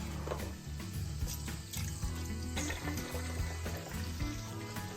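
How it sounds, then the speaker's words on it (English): Beef stock pours into a cooking pot in a steady, close liquid splash and gurgle that lasts a few seconds, with light clinks at the pot. "I'm going to add 32 ounces of beef stock"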